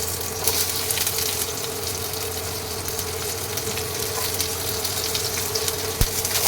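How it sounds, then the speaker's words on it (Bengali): Chopped onion fries in a pan of oil with a little ghee, making a loud, continuous, even sizzle for several seconds. One sharp tick sounds near the end, and no one speaks. "এবার আমি পেঁয়াজ কুচিটা দিয়ে দেবো।"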